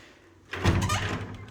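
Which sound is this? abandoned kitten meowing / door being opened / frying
door being opened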